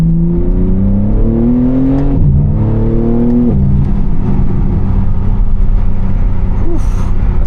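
A tuned BMW G80 M3 accelerating hard, its engine note climbing through rising gears with brief breaks at the shifts, loud and close from inside the car.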